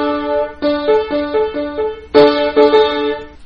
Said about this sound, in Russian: первая и пятая ступень трезвучия не раздражает слух,